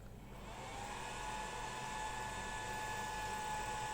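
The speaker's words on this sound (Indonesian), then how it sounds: "mulai berputar fannya. Putar lagi, semakin cepat, semakin berputar cepat ya." A fan on a small three-phase motor driven by a VFD inverter spins up, giving a steady whooshing whir with a faint rising tonal whine. It is fairly quiet and constant, with no talking.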